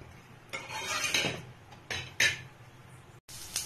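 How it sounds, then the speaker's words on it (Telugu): Egg curry spices, onion and coconut being stirred with oil in a pan: a spoon scrapes and clinks against the metal in a few irregular bursts with short pauses, close and fairly quiet. "కొంచెం ఆయిల్ పోసుకోవాలి. ఇలా కలుపుకోవాలి."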